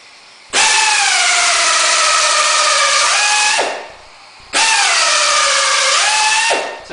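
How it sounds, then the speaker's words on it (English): A power drill whines loudly through two long bursts, its pitch dipping as the bit bores down into a block of wood for a knife handle, with a short pause between. "So I got my drill started, and now I can sight it straight down"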